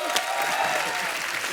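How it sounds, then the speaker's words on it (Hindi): Studio audience at a comedy show breaking into loud, dense applause that holds steady throughout the short stretch, with some voices mixed in. "तालियां।"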